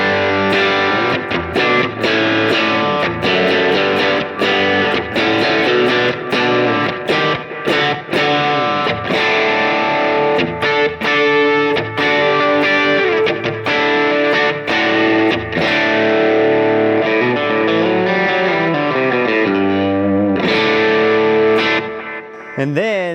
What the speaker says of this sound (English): I use this room sound a lot if I want a reverb, but I really don't want it to sound like I have reverb.